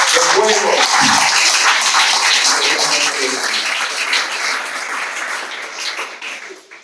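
Congregation at a Spanish-language church service applauds, a dense, loud wash of clapping that holds steady and then thins and fades toward the end, with some voices mixed in early on.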